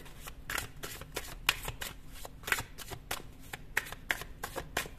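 A tarot card deck being shuffled up close, a fast uneven series of crisp riffling flicks and snaps, fairly quiet and with no speech.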